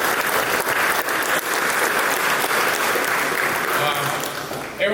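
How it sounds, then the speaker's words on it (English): A crowd at a high school basketball banquet gives sustained applause, a full, even wash of clapping lasting the whole stretch and fading slightly at the end. "Give them a round of applause"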